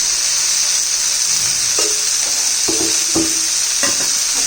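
Fresh pigeon pea (tur) seeds roast in oil for a village-style curry, giving a steady loud sizzle with several sharp stirring scrapes breaking through it.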